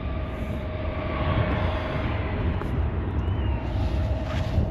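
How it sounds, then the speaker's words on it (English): A distant airplane coming in to land rumbles steadily over wind noise, a low continuous drone with a faint whine, no speech. "Every 2 or 3 minutes, another plane comes in."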